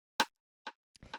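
Rimshot hits in a chill bass beat, a sharp crack followed by quieter delayed repeats trailing off, brief and isolated.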